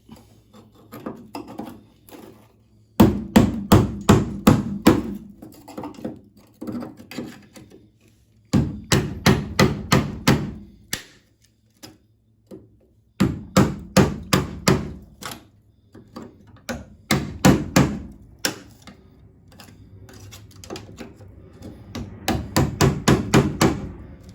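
Bursts of rapid hammer strikes on metal of a 1964 VW Beetle convertible body, several quick blows in each flurry, with short pauses between groups, sharp and close.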